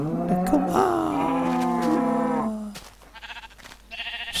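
Cow in the video game Minecraft lowing during breeding, a long drawn-out moo lasting over two seconds, followed by quieter clicks and game sounds with a brief bleat-like note near the end.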